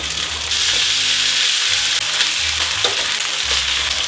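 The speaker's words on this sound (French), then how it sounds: "Les steaks, on va les faire saisir." Steaks searing in a hot pan with a loud, steady, bright sizzle throughout, a low hum beneath and a few faint clicks, close up with no talk.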